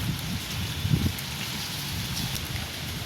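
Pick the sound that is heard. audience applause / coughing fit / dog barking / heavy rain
heavy rain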